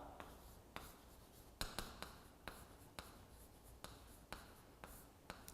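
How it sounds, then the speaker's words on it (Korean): Marker or chalk strokes on a board as an English sentence is written, a series of short, sharp taps and scratches spaced irregularly, fairly close and moderately loud with a quiet room behind. "그래서 이렇게 한번 써보겠습니다."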